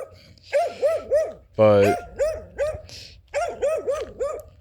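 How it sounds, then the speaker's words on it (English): A dog barks repeatedly in quick bursts close by, with a person speaking briefly partway through. "Sorry, dog's barking."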